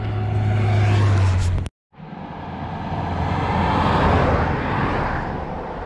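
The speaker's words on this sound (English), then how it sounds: "this is just going to be cars and campers and trucks and motorcycles, but it's beautiful. It's just really loud." Loud, continuous roadside traffic of cars, campers, trucks and motorcycles rushing past close by, broken by one abrupt brief gap of near silence before the steady roar resumes.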